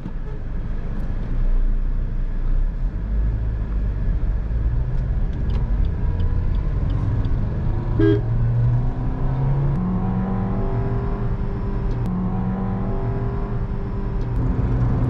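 A Maruti Suzuki Ignis BS6 with an AMT gearbox revs up through several rising pulls while driving in manual mode, a steady interior drone with smooth acceleration and gear changes.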